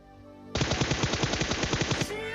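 Rapid automatic gunfire from PUBG Mobile rattles out in a sustained burst of about fifteen evenly spaced, loud shots lasting around a second and a half, then cuts off abruptly.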